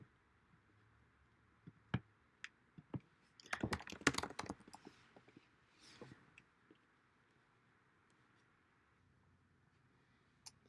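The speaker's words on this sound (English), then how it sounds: "he's typing." Someone types on a computer keyboard in a quiet room, scattered single key clicks breaking into a quick flurry of taps midway, then sparse presses again, close and soft.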